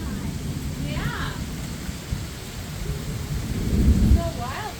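A severe thunderstorm rumbles with low rolling thunder over steady rain, the rumble swelling louder toward the end, while faint voices are heard in the background.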